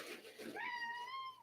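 A single drawn-out meow, rising then holding steady for about a second, close and clear after some soft breathy noise.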